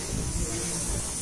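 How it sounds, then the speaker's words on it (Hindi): Lubricant sprayed onto the chain of a 2023 TVS Apache RTR 160 4V BS6 Special Edition motorcycle during a free service, a steady close aerosol hiss lasting the whole moment. "देखिए इस तरह से इसका लुब्रिकेशन कर रहे हैं"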